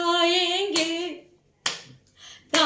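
Congregation clapping hands during a Hindi worship song at a church service, three loud, sharp group claps about a second apart, with a sung voice holding a note at the start.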